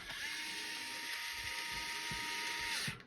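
A small hand tool snugs the screws on a brand-new nitro engine, producing a steady close whirring tone for about three seconds before it stops, with no talk.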